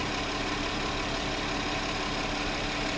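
A 2009 Volkswagen Touareg with a 3.6L engine running lean, idling with a steady, even hum and a broad noisy wash, constant in level with no revving or voices.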